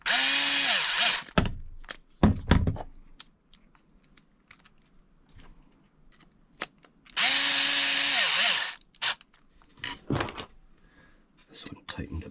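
Power tool driving screws into a plastic chassis of an Arrma Big Rock RC car, two loud whirring bursts with a clicking clutch sound between quiet handling clatter, near, with talk in the gaps.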